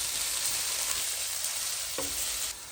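Thinly sliced onions fry with a little salt in a pan for chicken tikka biryani, giving a steady, close hiss and crackle that holds even, then softens slightly near the end.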